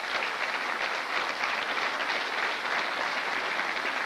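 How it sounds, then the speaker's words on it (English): Applause from a crowd for the Irish men's team after the 2003 WEPF men's team final against England: a dense, even wash of clapping that holds steady and close throughout, with no talking. "I think we should all give them a round of applause for how well they played in this final"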